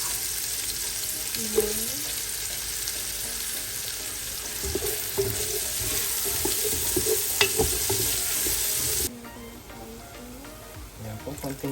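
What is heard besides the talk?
frying garlic and onion for pancit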